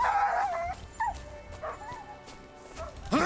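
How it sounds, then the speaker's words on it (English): A dog whimpers and yips in short rising cries in the video game Kingdom Come: Deliverance II, repeated over about three seconds against a steady game background with music. "You hit my dog? You made my dog cry?"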